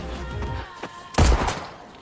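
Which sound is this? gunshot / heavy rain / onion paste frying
gunshot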